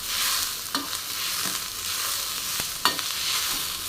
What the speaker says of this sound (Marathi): तर मी ह्याच्यामध्ये कोथिंबीर टाकून घेते, ही पण थोडीशी भाजून घ्यायची कांद्यामध्ये